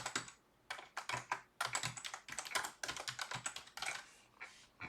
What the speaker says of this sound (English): I can't type tonight.